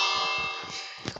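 A single large bell rings with a bright, sustained metallic tone that slowly fades over about a second, ending with a few faint knocks.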